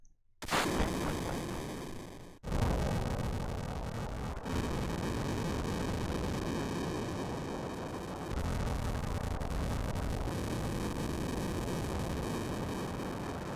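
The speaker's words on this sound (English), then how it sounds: "Yay, more explosions." Dense, continuous video game explosions from the original Final Fantasy 7 and heavy booming blasts roar without letup, with a couple of sharp cuts, loud and chaotic, no voices.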